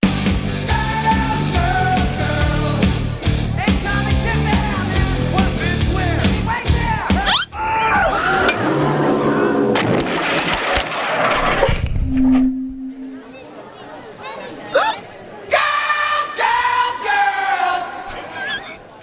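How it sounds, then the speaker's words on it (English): Crowd noise at a rock concert, captured on a smartphone, is loud and roaring with yells and cheers, with some abrupt shifts and quieter patches along the way. "Crowd just milling around there"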